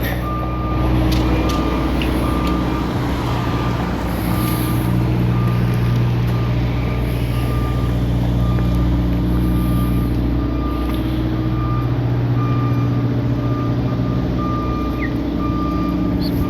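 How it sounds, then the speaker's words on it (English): A truck's reversing alarm beeps steadily at an even rhythm over a loud, rumbling idling engine on a downtown Golden street, continuing without pause. "Beep, beep, beep."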